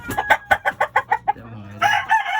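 Breeder chickens cluck in a rapid run of sharp, evenly spaced notes, then a loud crow follows, close and clear with no talking.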